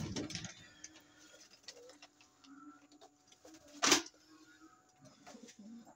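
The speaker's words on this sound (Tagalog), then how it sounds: "Check ko lang yung kalapatids." Pigeons in a loft during rainy season cooing softly in repeated low calls, with a sharp click midway and faint voices in the background.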